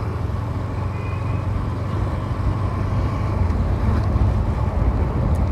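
A 2022 TVS Apache RTR 180 BS6 motorcycle riding at an easy pace through city streets, a steady low engine drone mixed with wind rush against the microphone and no talk.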